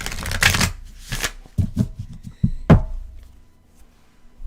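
A Shaman Oracle card deck shuffled by hand, several quick riffling bursts and soft thumps of cards being squared and tapped, close and clear with no talk.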